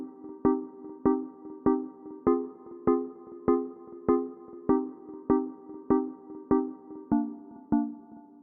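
A bright synth pluck from Logic's stock Plucking Echoes preset repeats about twelve times at a steady, even pace, each note ringing out and fading briefly before the next, played alone.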